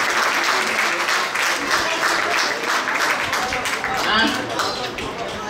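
An audience at a birthday celebration speech in Gujarat bursts into loud, sustained applause, a dense wash of clapping filling the whole stretch without pause.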